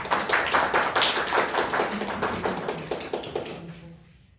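Applause from a meeting audience welcoming the Toastmaster of the day, dense steady clapping that starts strong and gradually thins and fades out over a few seconds, with no talking.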